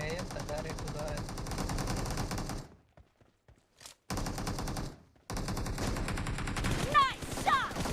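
Bursts of automatic gunfire in the battle royale game PUBG Mobile, rapid clustered shots in loud stretches broken by brief quiet gaps, with a little overlapping voice chatter.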